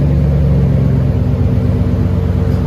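Loud, close rumble of a Nissan Titan 5.6L V8 exhaust, a deep steady droning idle with slight revving pulses, heard alone without talk.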